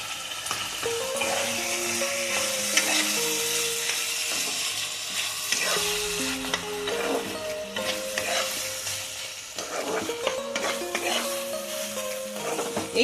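Chicken sizzling in a pan as cashew paste is stirred in, a close, steady frying hiss with repeated scraping stirs and light utensil knocks, and faint tonal sounds running underneath.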